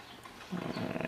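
A puppy in a garage gives a low, rumbling growl that starts soft and swells louder halfway through, close by and brief, with no one speaking.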